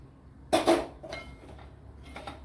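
Grated coconut dry-roasted in a pan without ghee, giving a short burst of metal clinks and scrapes from a spoon against the pan, followed by a few fainter knocks.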